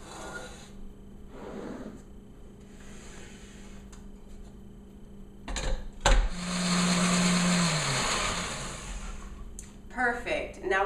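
A kitchen blender purees milk and kale for a kale berry smoothie, starting with a loud whirring burst that rises in pitch and holds steady for a couple of seconds after quieter handling noises.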